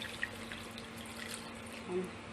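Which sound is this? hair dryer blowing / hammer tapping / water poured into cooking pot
water poured into cooking pot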